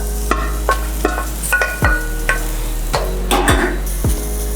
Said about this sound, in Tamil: இப்போ துருவி வச்ச வாழைக்காய் அப்படியே போட்டுருவோம்.